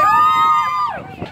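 A crowd cheers at Thorpe Park theme park, one high, sustained whoop held loud and close over a short burst of crowd noise that fades away.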